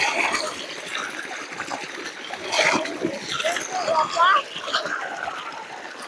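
Water from two pump motors splashes and gushes through an irrigation field channel, a steady wet splatter running throughout while people talk over it.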